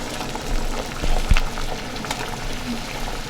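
Water heating in a pot for wonton soup, giving a steady low bubbling hiss with a brief louder burst near the middle.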